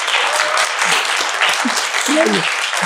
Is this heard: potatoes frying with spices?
no